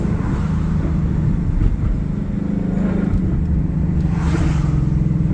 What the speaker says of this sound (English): Love the rev match.